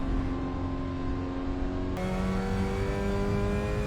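A Mazda MX5 Cup race car in Assetto Corsa on the Zandvoort circuit, its engine droning loudly and steadily as it accelerates, with a sudden gear change partway through and no talking.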